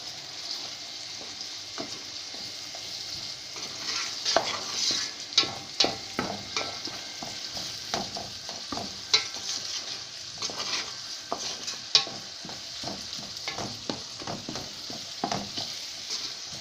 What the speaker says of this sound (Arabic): احط عليها اول حاجه الفلفل الاخضر اللي انا مقطعاه، وابتدي اقلبه علشان يدبل هو كمان معايا